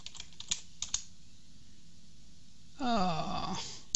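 Quick keystrokes tap on a computer keyboard while a command is entered in a Solaris 11 terminal, a few sparse clicks followed by a brief burst of faster typing, close and fairly quiet.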